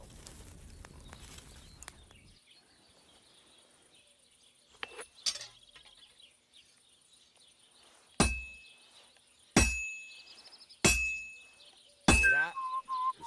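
Hammer blows ringing on hot metal at an anvil in a medieval smithy in Kingdom Come Deliverance 2: several loud, sharp metallic clangs spaced a second or so apart, each with a bright ringing tail, after quieter shuffling and a softer earlier strike.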